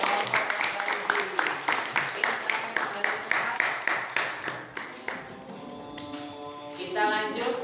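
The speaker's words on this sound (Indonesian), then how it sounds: "Kita beri tepuk tangan untuk kelompok laba rugi" A classroom group claps in unison for a class group, a rhythmic run of sharp, evenly spaced claps close by that loosens into scattered applause near the end.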